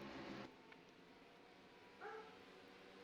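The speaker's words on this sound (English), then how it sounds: "And the dogs are barking." A dog in a house gives a faint, distant single bark after a brief muffled thump, set against a quiet, steady room hum.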